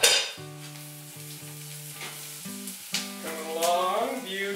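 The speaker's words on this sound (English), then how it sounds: "Get these onions softened a little bit and browned a little bit." Onions soften and brown in a hot pan, giving a steady frying sizzle with occasional stirring, layered under sustained tonal music throughout.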